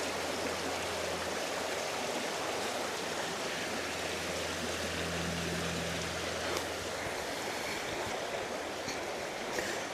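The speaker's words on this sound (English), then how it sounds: "Oh, I can hear water." Stream water rushes near Serpentine Falls as a steady, broadband wash of flowing water that holds at an even level throughout, with a faint low hum in the background.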